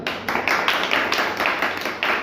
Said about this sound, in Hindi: बहुत बड़ी तालियां